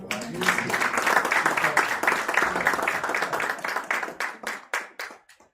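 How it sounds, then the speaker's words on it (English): Applause from a Kenyan conference audience greeting a presenter, sustained clapping with a crowd murmur and voices underneath that gradually fades into a few final claps. "Please clap for her."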